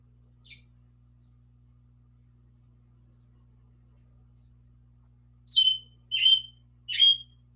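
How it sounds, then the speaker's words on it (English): A pet bird gives a quick chirp, falls silent for several seconds, then lets out three loud, sharp calls in fairly even succession, close by over a faint steady hum. "My bird is like being hella loud"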